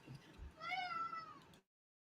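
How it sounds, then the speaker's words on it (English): A Russian Blue cat gives a single drawn-out meow, clear and fairly close but not loud, after a brief low bump of background noise; the sound then cuts to silence. "I heard that meow."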